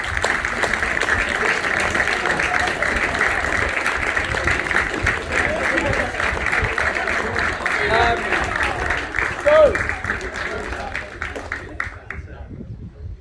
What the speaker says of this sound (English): So I'd like to give a round of applause to Beth, please.